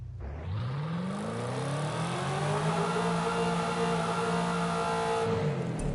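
Supercharged car engine with a steady rising whine layered over a deep rumbling drone, loud and close, sustained for several seconds without any talk.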